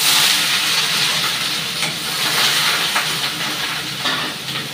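Vegetables for shukto, including drumstick, green banana, papaya, bitter gourd, potato and eggplant, sizzling in a pan with a continuous close hiss and occasional crackles.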